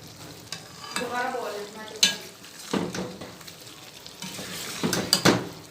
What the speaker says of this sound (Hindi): अब हम इसको अच्छी तरह से मिक्स करते हैं